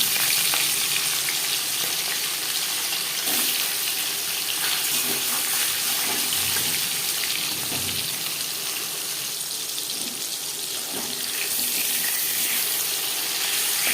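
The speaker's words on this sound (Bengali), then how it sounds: "মাছ ভাজা হয়ে গেছে।" Pieces of katla fish fry in hot oil with a loud, continuous crackling sizzle that holds steady for the whole stretch, broken by a few soft clinks, with no one speaking.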